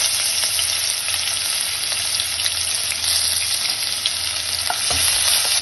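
Ginger, garlic and whole spices such as cloves, cardamom and cinnamon fry in oil over low gas for Punjabi-style masala rajma, giving a steady, dense sizzle throughout with occasional faint clinks of stirring.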